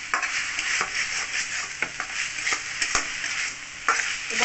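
Chicken cutlet mixture with bread crumbs is stir-fried in a pan, a steady sizzle broken by repeated scraping strokes of a spatula at an even pace, close and fairly loud with no talking.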